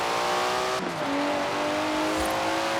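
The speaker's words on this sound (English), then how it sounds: "Never heard a Datsun sound like that, have you?" A Datsun car engine in Forza Horizon 4 revs loudly, then drops briefly as it shifts and climbs again in a rising, strained tone, close and continuous without speech.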